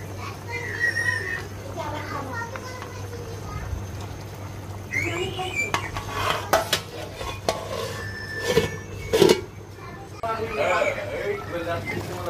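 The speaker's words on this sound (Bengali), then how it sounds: "এখন একটু পর ঢাকনাটা উঠিয়ে এবার নেড়ে ছেড়ে দিব।" A spoon stirs beef curry in a cooking pot, scraping and clinking against the metal at intervals under a steady stove hum, while a voice and background household sounds come and go.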